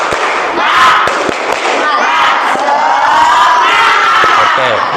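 A class of fifth-grade schoolchildren does a tepuk semangat clapping chant, loud excited group shouting with sharp claps throughout, the voices packed close together.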